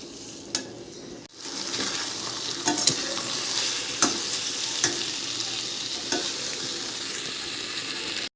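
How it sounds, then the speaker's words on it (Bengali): Poppy seeds stirred and dry-frying in a pan over a medium gas flame, with a steady close crackling sizzle, a scrape of the spoon now and then, and a few sharper clicks. "গ্যাসের ফ্লেমটাকে মিডিয়াম রেখে এবার পোস্তটা দিয়ে শুধু নাড়তে থাকবো যতক্ষণ না পুরো ভাজা ভাজা হয়ে যাচ্ছে"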